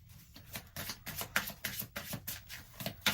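Tarot cards are shuffled by hand in a steady run of soft, papery riffles and slaps, about a dozen close, repeated bursts with no talking.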